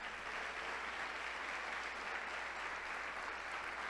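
A church congregation at a healing service claps together in sustained, even applause that fills the room without a break, steady and moderately loud, with no voice standing out.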